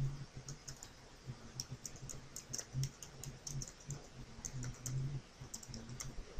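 Quiet, steady keystrokes on a computer keyboard, with rapid ticking clicks running throughout at close range and nobody speaking.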